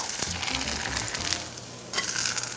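Steady oil sizzling and crackling of corn pancake batter frying in a pan, close and continuous, with a brief dip before the sizzle swells again.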